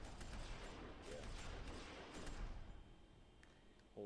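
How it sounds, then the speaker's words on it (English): A dense burst of gunfire in The Walking Dead video game, a rapid overlapping volley that continues for a few seconds and then tapers off toward quieter background. "Whole lot of gunfire."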